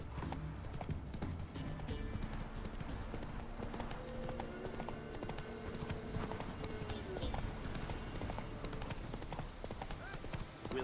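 Hooves of the horse Roach clip-clopping at a steady walking gait in the Witcher 3 video game, close and continuous over ambient outdoor game sound, with a low voice briefly present.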